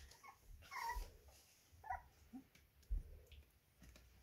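Young puppies about 25 days old whimpering and yipping softly in short, scattered bursts as they play and tussle, fairly faint and close, with no talking.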